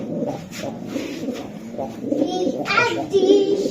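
Racing pigeons coo softly at close range, low throaty murmurs repeating under nearby talk and rustling.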